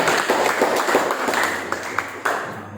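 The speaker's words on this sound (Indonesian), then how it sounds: "Beri tepuk tangan dulu ya." Classroom applause as a group of students claps for a presenting group, a dense burst of rapid claps that tapers off within a couple of seconds, recorded indoors at moderate distance.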